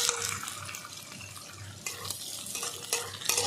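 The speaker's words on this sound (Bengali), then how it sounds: "এবার দিয়ে দেবো পেঁয়াজ কুচি" Chopped onions drop into a pan with reddened garlic and fry under stirring, a close, bursty sizzle with splashy scraping swells, briefly louder near the end, without speech.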